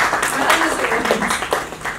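Steady, loud audience applause at an awards ceremony for a wellness team, dense clapping that carries on evenly for the whole stretch.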